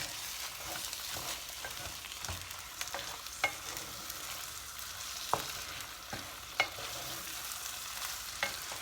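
Rice grains being stir-fried in fully melted fat in a pot for a chicken and chickpea pilaf: a steady close sizzle broken by scattered sharp scrapes and clicks of the spoon, with no voices.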